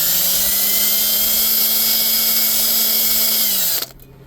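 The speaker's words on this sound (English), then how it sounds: "we're just gonna sand it all the way in there to clean that injector" Power sander whining steadily while cleaning the injector area of a BMW N55 engine during an X6 rebuild, loud and close, running continuously for nearly four seconds before cutting off abruptly.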